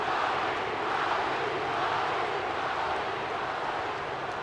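Wrestling arena crowd in WWE 2K25 ahead of WrestleMania 41, a dense, steady roar of cheering and chanting that fills the whole stretch.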